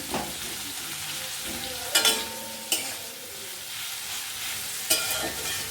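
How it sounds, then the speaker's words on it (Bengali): Home-ground dried chilli powder and other spices fry in a pan in a home kitchen, a steady soft sizzle with a few sharp stirring clinks and scrapes, no talking. "তো এটা ভাজটা হতে থাক"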